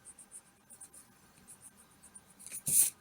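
Pencil strokes a line across paper in short scratchy passes, then a brief, louder burst of eraser rubbing near the end, close and fairly quiet.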